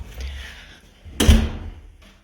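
A wooden double door in a rented two-room apartment in Zaporizhzhia shuts with one loud, close thud partway through, following a quiet stretch of faint room noise.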